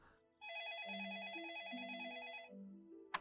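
A telephone rings in an episode of The X-Files: a steady warbling electronic trill with a lower melodic tone beneath it lasts about two seconds, then ends with a brief sharp click. The ring is faint and heard alone.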